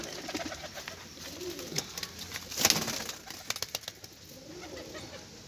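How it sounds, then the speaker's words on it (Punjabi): Pigeons, four pairs of young birds kept for sale, coo softly and intermittently in a low, murmuring rhythm, with light rustling and clicks in the background. "ਇਹ 8 ਕਬੂਤਰ ਨੇ ਬਾਈ ਜਵਾਨਾਂ"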